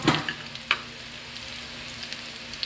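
Onions sautéing in a pan for chicken adobo, soft steady sizzle with a few sharp clicks of a utensil against the pan, close and fairly quiet.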